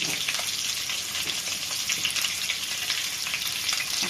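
Oxtail (akawi) stir-fried in ghee sizzles and spits steadily in the pan, a dense continuous frying hiss at close range with small crackles throughout and no voices.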